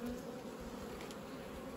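Honey bees drone steadily around an open brood frame lifted from a hive, a close, continuous buzzing that stays even and unbroken throughout.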